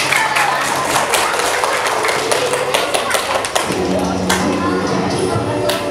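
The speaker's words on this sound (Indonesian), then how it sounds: "Sekali lagi tepuk tangan untuk kita." A school orientation closing ceremony audience claps, with dense, steady handclaps and some sharper taps filling the room throughout.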